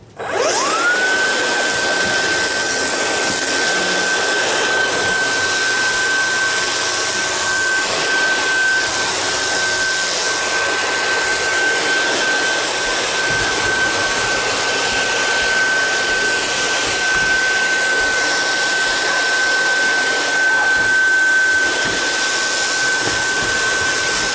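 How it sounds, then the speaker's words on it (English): A Dyson DC22 canister vacuum cleaner runs continuously, a loud, steady motor roar with a high whine that rises as it spins up and then holds constant. "The other thing I like about this Dyson canister is it has a normal caster up front and two big wheels."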